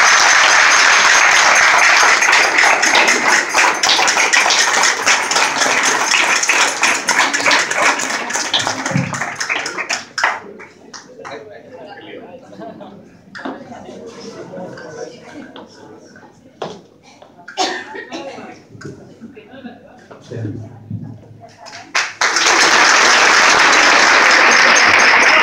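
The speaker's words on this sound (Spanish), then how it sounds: "Un aplauso." An audience claps loudly for a girl from a dance group at an event. The dense applause fills the opening ten seconds, gives way to quieter moments with voices and stray knocks, then comes back strongly near the end.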